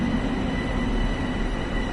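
Passing train in the video game Train Sim World on PlayStation 4, a steady close rumble of rolling wheels with a constant hum and even loudness throughout, no talking.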